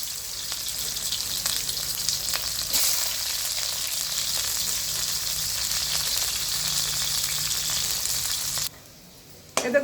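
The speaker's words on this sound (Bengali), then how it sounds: "করলাগুলোকে ভেজে নেব।" Sliced bitter gourds (karela) fry in hot oil in a pan, giving a dense, steady sizzle with occasional crackles and stirring noises, close up, before the sound suddenly drops away near the end.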